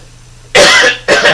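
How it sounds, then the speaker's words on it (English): Two loud, close coughs, a long harsh one followed by a shorter one, with quiet room tone before them. "I got a cough."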